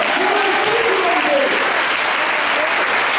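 Dense, loud applause from a large congregation at an annual church congress, a sustained wash of many hands clapping without pause for the whole stretch.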